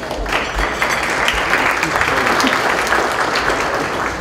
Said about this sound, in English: so we'll clap again for everyone